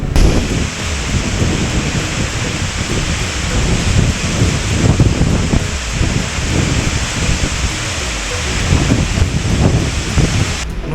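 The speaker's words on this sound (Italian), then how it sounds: "Il vento è sempre forte" Steady, roaring wind buffets continuously at the Ridracoli dam during overflow, with broadband rushing noise and gusty surges, loud and close throughout, with no voices.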